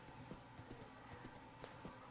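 Minecraft horse hooves trot at a quick, steady clip-clop, each step a short knock repeating across the stretch at moderate volume with no talking.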